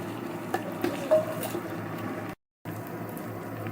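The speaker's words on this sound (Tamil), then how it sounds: "இப்ப தக்காளி சேர்த்துக்கிறோம்" Tomatoes are stirred into ginger-garlic paste frying in a pan for rooster biryani: a steady sizzle with soft scraping stirs and a few clinks, broken by a short silent gap partway through.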